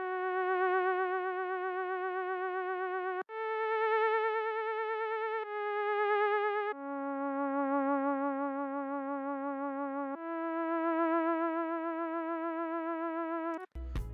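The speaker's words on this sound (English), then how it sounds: "After that, I added in this theremin, which sounds like this." A theremin-style synth lead in a hip-hop beat plays a handful of long sustained notes, each with a wavering vibrato, loud and alone, before ending abruptly with a short thump.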